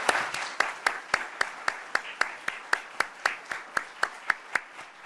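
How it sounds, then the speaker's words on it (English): One person claps slowly and evenly in a steady rhythm, about three claps per second, each crisp and close over a soft background of wider audience applause after a panel discussion. "one more round of applause for the panel and for Mike"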